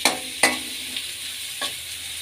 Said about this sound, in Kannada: ಈಗ ಈರುಳ್ಳಿ ಹಾಕ್ಕೊಳ್ಳೋಣ ಎಣ್ಣೆಯಲ್ಲಿ